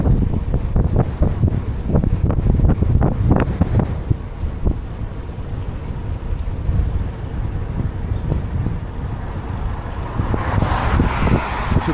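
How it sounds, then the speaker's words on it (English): Heavy wind buffets the microphone of a cyclist riding along a country road, a loud continuous rumbling roar with gusty bursts throughout. "Oh, there's a little bit of wind."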